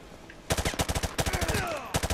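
M4 rifle firing in Call of Duty Modern Warfare 2 Remastered, loud rapid automatic bursts of sharp cracks in three strings separated by short pauses, with shell-like metallic tinkles trailing the middle burst.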